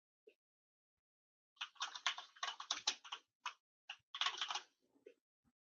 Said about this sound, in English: You are very loud typing. Yes, I have a mechanical keyboard.